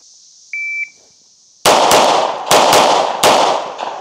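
A Tisas B9R double stack 1911 pistol fires about six loud, sharp shots close by. They come in quick pairs and singles, each with a ringing decay, and a short electronic beep sounds before the first shot.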